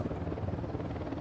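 An enemy helicopter approaching in the video game Ghost Recon Wildlands, a steady, fairly loud rotor chop and engine drone with no pause.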